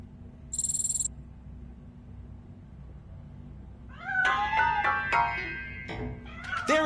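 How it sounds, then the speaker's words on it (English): A cat meows several times inside a piano in the RoboCop: Rogue City video game, a short series of clear, fairly close cries following a brief electronic chirp, heard over low game ambience. "That cat must be hiding inside."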